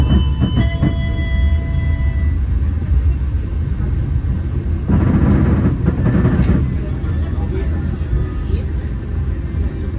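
Passenger train on the Malang–Yogyakarta line passing another commuter train, a loud, continuous rolling rumble with a louder surge of passing noise in the middle.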